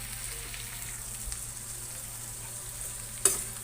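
Fried brinjal being stirred through a pan, a steady soft sizzle with faint scraping and one sharp clink near the end, no voices.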